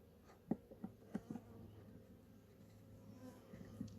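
Package honey bees being installed into a hive give a steady low buzzing hum, with a few sharp knocks and taps from handling the box.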